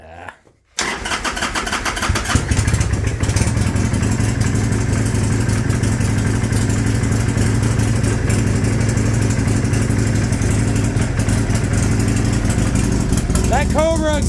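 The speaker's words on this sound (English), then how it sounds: "That Cobra exhaust just has a great tone to it. Just throaty, but it's not super loud" A Hammer 1275 Sportster motorcycle with a Cobra exhaust starts up and settles into a steady, loud, throaty idle that runs continuously up close, with speech over the engine.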